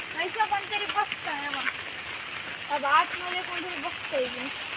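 Steady rain patters in a Konkan forest beneath people talking nearby.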